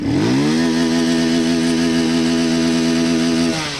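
A 200 cc motocross motorcycle engine revs hard and close, rising quickly in pitch and then holding a loud, steady high-revving drone for several seconds before dropping off.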